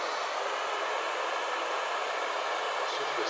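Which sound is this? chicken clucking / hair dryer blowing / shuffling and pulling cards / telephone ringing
hair dryer blowing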